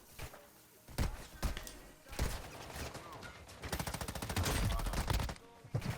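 Bursts of M12 gunfire in the mobile shooter Warzone Mobile, with several rapid volleys building into a dense sustained stretch near the end, mixed with game noise and some voice.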